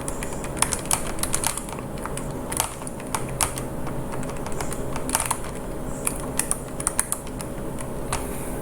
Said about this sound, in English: let me type this value into my calculator